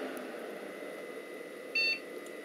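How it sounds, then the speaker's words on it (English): A computer fitted with an NVidia GT 710 graphics card gives one short, clear electronic beep on boot, rising above a steady low fan hum. "and we get a beep."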